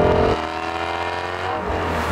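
A Ford race car from The Rockford Files, built like a track day car, idles with a loud, close engine drone after a brief louder rev at the start.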